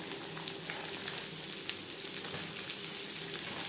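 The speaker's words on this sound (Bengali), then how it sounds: "এখানে আমি দুটো বড় ধরনের পেঁয়াজ অ্যাড করলাম দু তিন মিনিট পেঁয়াজ ভেজে নেওয়ার পর" Two large onions fry in refined oil in a kadai, a steady close sizzle with faint crackles and occasional soft stirring taps, no voices.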